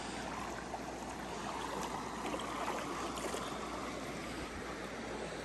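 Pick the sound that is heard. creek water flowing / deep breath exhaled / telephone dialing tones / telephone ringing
creek water flowing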